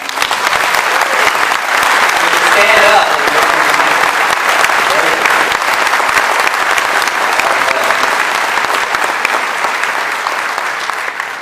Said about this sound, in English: How about a round of applause for the committee that made all this happen?